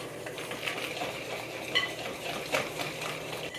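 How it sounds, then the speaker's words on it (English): Spoon scrapes and clinks against a bowl as gluten-free chocolate whoopie pie batter is mixed by hand. The stirring is soft and close with a steady rhythm, and a couple of sharper taps stand out. "Now just give this a really good mix."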